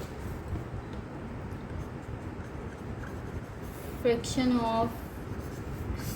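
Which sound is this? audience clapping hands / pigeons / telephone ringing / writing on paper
writing on paper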